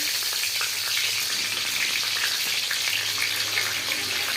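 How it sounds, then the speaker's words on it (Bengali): Three bay leaves and five-spice seeds fry in hot mustard oil in a kadai, making a dense, continuous crackling sizzle, fairly loud and close, with no talking. "কড়াইতে দিচ্ছি সরষের তেল। তেলটা গরম হলে আমি 5 ফোড়ন দেবো।"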